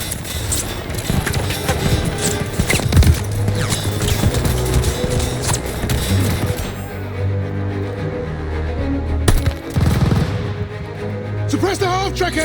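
Machine gun bursts in a World War II video game battle in France, 1944, mixed with explosions and other battlefield noise, loud and dense throughout with voices calling out over the fighting.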